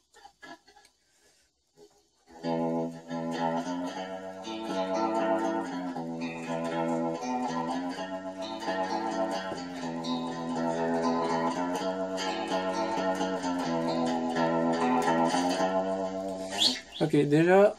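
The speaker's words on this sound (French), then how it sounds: "Un son clean avec du reverb dedans." Sustained, chord-like electric guitar tones ring out with a spacious wash of reverb, starting after a brief silence and continuing steadily to the end.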